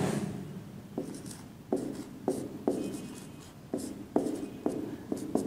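Chalk or marker writing on a classroom board, a series of short scratchy strokes with sharp taps as each stroke begins, irregular in rhythm, close and moderately loud with no talking.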